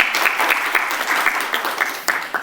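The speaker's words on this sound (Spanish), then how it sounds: "También los aplausos, por favor." An audience at an educational health session on nutrition and tuberculosis prevention claps together in a brief burst of steady applause, dense and fairly loud, without anyone speaking.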